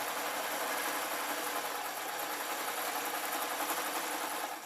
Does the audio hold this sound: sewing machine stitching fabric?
yes